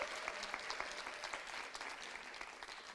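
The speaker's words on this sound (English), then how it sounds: "Please give yourselves a round of applause for being such a wonderful audience." A debate audience applauds at the close of an event on gender equality in South Africa, soft, even clapping heard faintly and from a distance.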